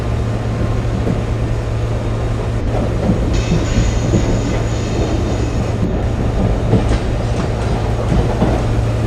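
A train in Indian Train Simulator rumbles along steadily with a constant low drone and faint clatter, loud and continuous throughout, no voices.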